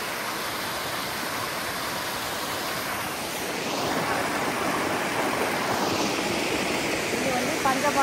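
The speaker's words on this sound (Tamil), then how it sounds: "இது பாருங்களேன், தண்ணி பாருங்க சூப்பரா போகுது." Water rushing steadily at Anguthi Sunai waterfall, a broad continuous roar of flowing water near a bridge and temple, loud and unbroken throughout.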